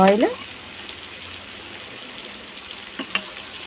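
Fish fries in a little oil on a flat tawa, giving a steady, soft sizzle throughout, with a brief louder vocal-like sound at the very start.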